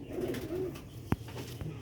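Sialkoti pigeons coo close by in low, rolling murmurs, steady at first, then broken by a sharp flutter or knock near the end.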